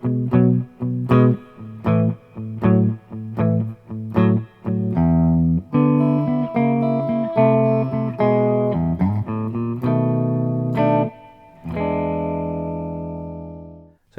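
Blues turnaround played on electric guitar with a slide: several short, punchy plucked chords, then sustained notes that glide in pitch, ending on a long ringing chord. No talking.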